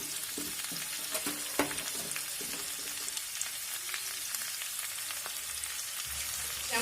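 Ginger and green cardamom fry in a wok with a steady close crackling sizzle and a few soft stirring scrapes, no voices.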